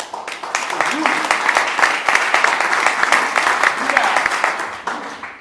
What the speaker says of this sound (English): give y'all a round of applause